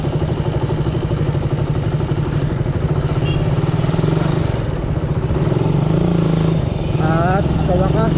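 A Suzuki Raider 150 motorcycle engine runs steadily at about 1,500 RPM, a loud, close, continuous low mechanical drone with a faint clatter, while voices talk over it.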